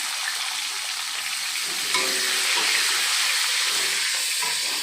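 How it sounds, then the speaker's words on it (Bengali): Chopped tomato hits hot oil tempered with cumin and dried chilli, frying with a loud, close, continuous sizzle and hiss as it is stirred. "এর মধ্যে দেখো টমেটো কুচিটা দিয়ে দিলাম।"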